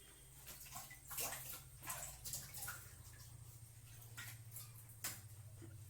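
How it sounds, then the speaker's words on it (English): Water runs faintly from a tap as hands are wetted before washing with liquid soap, a soft continuous trickle with a few brief splashes, distant and quiet against a low background hum. "just wet your hands"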